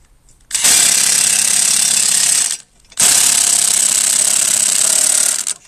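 An air impact gun with a 14mm or 9/16 socket undoes a Toro or Hayter 21-inch mower blade bolt in two loud, close hammering bursts of about two seconds each, split by a short pause.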